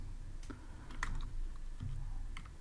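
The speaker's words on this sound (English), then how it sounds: "Let's type here" Keys on a computer keyboard clatter in short irregular bursts, close and fairly quiet, with brief pauses between strokes.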